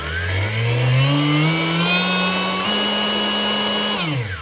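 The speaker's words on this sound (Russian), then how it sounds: "И вдруг моторы завелись." Electric motors of a homemade electric BMX, powered by its battery, whir up in pitch and hold a steady loud whine for about four seconds before spinning down, with no talking.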